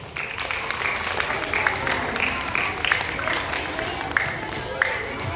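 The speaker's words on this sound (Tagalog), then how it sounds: "Isang malakas na palakpak." Applause and crowd noise at a scout camping closing ceremony during certificate awarding, continuous clapping mixed with chatter and occasional cheers, fairly loud and steady throughout.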